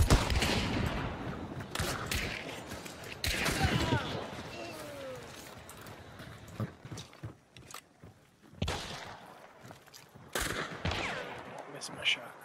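Gunfire in the Hunt: Showdown video game, a series of sharp, fairly loud shots in scattered bursts with some footsteps between them, under a voice talking.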